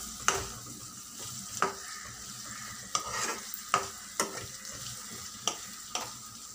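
Salt and turmeric are stirred into besan chutney in a pan, with a low background sizzle and a series of sharp, regularly spaced spoon taps and scrapes against the vessel, close and moderately quiet.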